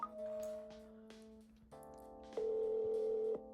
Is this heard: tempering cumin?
no